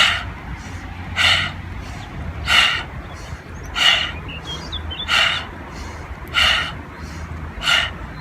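Fast, rhythmic yoga breathing in close, loud bursts, seven breaths at a steady pace roughly every 1.3 seconds over a faint background hum, with no speech.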